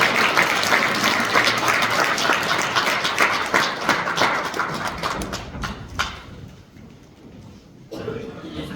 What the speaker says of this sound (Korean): 그런 장로님이 계시기를 우리 축하 한번 박수 빨리.